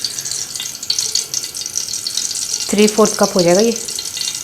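Half a cup of solid ghee sizzles for a tadka in a pan, a steady close hiss and crackle of frying. Someone talks over the latter part.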